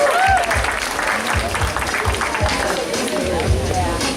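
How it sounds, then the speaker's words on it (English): Audience at a high school end-of-year summer bash and awards night applauds for an absent award recipient, steady clapping under a murmur of crowd noise and voices, with some louder thumps mixed in throughout. "let's give him a round of applause"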